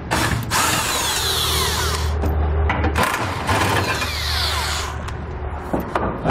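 A power tool whirs and ratchets in close, loud bursts, spinning out the bumper support bolts of a 2019 Chevrolet Colorado, with short pauses between runs.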